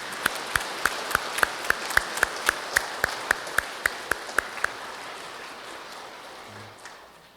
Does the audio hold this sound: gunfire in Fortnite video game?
no